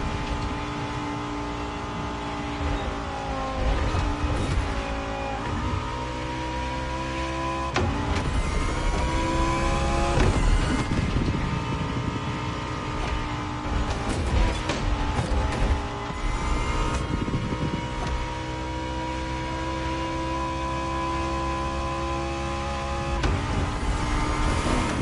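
A Lamborghini Egoista accelerates hard in the racing game The Crew Motorfest, with the engine revving up through several gear changes. Steady, loud and continuous, with repeated climbing whines and no talking.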